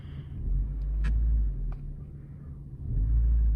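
A car engine rumbles low and close, swelling as it revs up, easing off briefly, then rising again.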